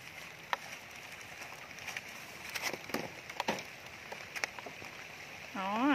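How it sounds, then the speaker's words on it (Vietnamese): Light rain pattering softly outdoors near snake traps in Vietnam, a steady hiss with scattered drips and taps close by, then a brief warbling voice-like sound at the very end. "Lâu quay trời mưa lác đác mọi người ơi."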